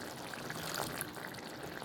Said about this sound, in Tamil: புளி தண்ணி இருக்குல்ல, அதை வந்துட்டு ஆட் பண்ணிடலாம்